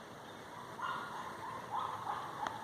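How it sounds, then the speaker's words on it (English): A dog barks and yaps faintly in the distance, three or four brief yips spread out over a soft outdoor hiss among tall pines in a breeze. "With the dog barking and yapping the whole time in the background"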